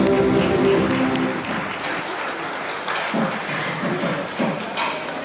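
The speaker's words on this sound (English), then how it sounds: "Have a round of applause from the audience," Audience applause at a foundation stone laying ceremony for a new office complex, loud at first over a brief tonal sound, then thinning to scattered, uneven claps.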